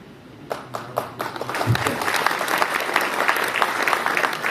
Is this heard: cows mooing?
no